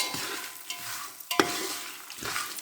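Puffed rice stirred and fried in oil for kara pori, a close crackling sizzle under brisk scraping stirs, with one sharper clatter midway and a few softer sweeps around it.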